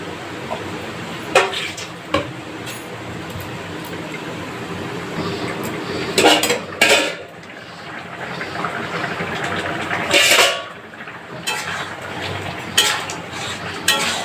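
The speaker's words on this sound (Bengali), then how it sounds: "এবার আবার আমি একটু ঢাকা দিয়ে দেবো।" A lid goes onto a cooking pot of ridge gourd for a fish curry, with a few sharp metallic clanks and scrapes over a quiet background, spaced unevenly and heard close up.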